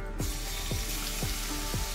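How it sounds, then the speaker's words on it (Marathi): Garlic cloves fry in hot oil in a wok, giving a dense, even hiss up close, with a low, regular pulse recurring about twice a second underneath. "आता कढईत तेल टाकलेलं आहे। आता त्यामध्ये आपण लसूण टाकणार आहोत।"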